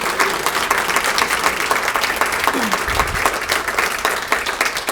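Audience applause for six seniors at a high school hall of fame induction ceremony, a steady dense wash of clapping filling the room for several seconds at even loudness.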